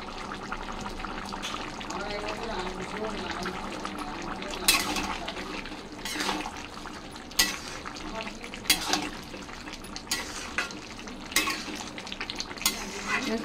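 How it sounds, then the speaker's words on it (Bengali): Ghee going into a hot pan of jackfruit curry with chickpeas and garam masala, a continuous close sizzle with repeated sharp scraping stirs against the pan at regular intervals. "এই যে ঘি দিচ্ছি"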